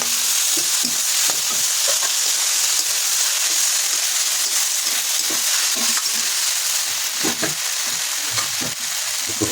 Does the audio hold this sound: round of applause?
no